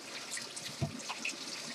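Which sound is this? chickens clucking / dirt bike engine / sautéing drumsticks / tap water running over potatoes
tap water running over potatoes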